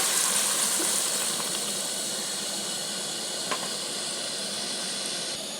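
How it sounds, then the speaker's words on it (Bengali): Water poured into hot fried spice paste in a pan for a thin fish curry, giving a steady, loud sizzling hiss that slowly fades over several seconds. "এইবারে আমি এতে জল দিয়ে দেব দেখুন আমার কষাটা খুব সুন্দর হয়েছে জল দিচ্ছি"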